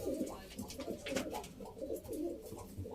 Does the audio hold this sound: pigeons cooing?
yes